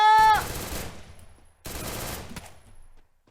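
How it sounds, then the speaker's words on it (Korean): Automatic weapon fire in the battle royale game Free Fire comes in two dense, loud bursts, each lasting under a second. A brief electronic tone opens the first burst. "야, 총알 미친듯이 쏜다, 진짜"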